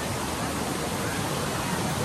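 Tinuy-an Falls waterfall in Surigao del Sur roaring steadily as a dense, unbroken broadband rush, loud and close with no pauses or other sounds standing out.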